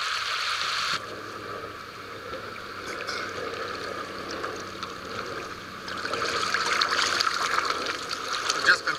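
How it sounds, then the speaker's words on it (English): Kayak loaded with about 70 pounds of gear and water paddled on the Ohio River, with soft trickling and splashing water strokes close by and a brief louder stretch of sloshing near the end. "Paddling a short way."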